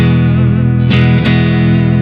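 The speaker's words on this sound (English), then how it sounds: "Just clean tone, a little bit of reverb." A clean electric guitar tone with a little reverb rings out as one sustained, loud chord, with two light pick or string attacks in the middle and a smooth reverberant tail.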